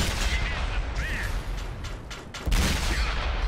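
AMX 13 90 tank gun firing in World of Tanks on Xbox One: heavy booming shots and rumbling impacts, one sharper blast near the end, loud and close.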